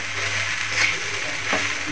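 Soaked, drained poha being mixed into a frying pan for upma, a steady soft sizzle with scraping, crushing stirs that swell twice briefly, close and unaccompanied by talk.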